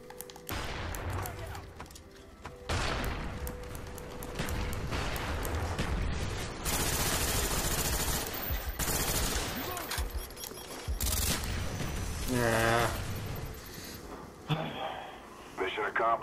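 Gunfire in an online shooter match, with bursts of rapid shots and sharp single cracks running through the whole stretch, loud and busy, mixed with game effects and a player's voice talking over it.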